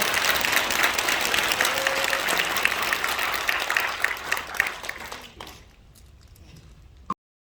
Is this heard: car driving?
no